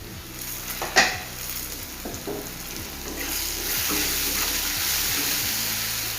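Potatoes frying in a pan for a chela fish curry, a steady broadband sizzle that grows denser and louder toward the end, with a few scraping stirs and a sharp utensil clink near the start.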